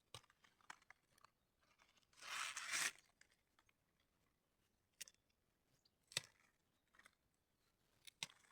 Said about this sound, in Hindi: तो अब मैं तोड़ती हूँ प्याज के पत्ते